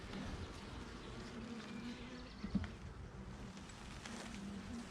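Honey bees buzz steadily around an open hive, a dense low insect drone with scattered wingbeats passing close, moderately faint and continuous with no talk.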